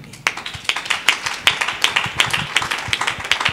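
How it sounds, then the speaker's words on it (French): An audience at a Congolese gospel music presentation applauds, with a run of sharp, uneven hand claps that start after a brief quiet moment and continue steadily throughout. "je demande au public d'applaudir pour cela"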